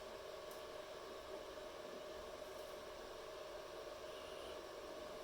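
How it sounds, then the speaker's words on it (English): Cooling fan of a Creality CR-6 SE 3D printer running during a print, a steady, even whir with a faint hiss, continuous and unchanging throughout with no other sounds. "Pretty much what you hear is the fan noise."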